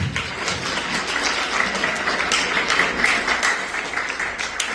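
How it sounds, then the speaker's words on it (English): An audience of parents at a 4.00 GPA award ceremony applauds their scholars, a dense, steady wash of many hands clapping in a hall, sustained at even loudness from start to finish. "parents, can you give your scholars a round of applause"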